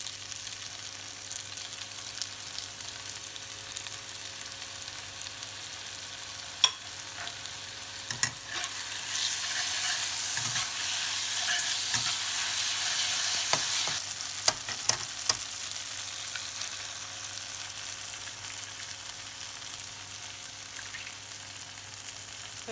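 Pad Thai vegetables stir-frying with tamarind sauce in a hot pan give a continuous close sizzle that swells louder midway, broken by sharp scraping and tapping of the utensil, over a low steady hum, with no talking.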